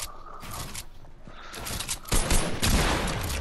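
Rapid bursts of video game gunfire crackle continuously over a few seconds, dense and loud, with the shooting intensifying toward the end.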